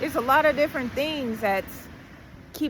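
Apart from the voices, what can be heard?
No everyday noises stand out.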